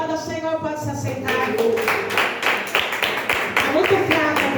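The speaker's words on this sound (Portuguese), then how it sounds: "Aplauda o Senhor" A church congregation claps during a Sunday sermon, rhythmic group clapping entering after a sung or spoken phrase and continuing steadily, moderately close, with voices mixed in.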